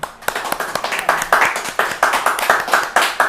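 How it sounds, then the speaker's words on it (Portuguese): A studio audience claps in a steady rhythm to close a Brazilian television program, with sharp, evenly spaced claps near and fairly loud, mixed with some scattered hand taps. "vamos terminar o programa batendo palmas"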